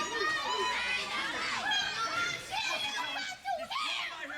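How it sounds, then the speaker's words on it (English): A wrestling crowd in an arena in Bushnell reacts with continuous loud chatter, shouts and bursts of laughter, a dense layered roar of voices that briefly dips before swelling again. "And hearing it from the crowd here in Bushnell."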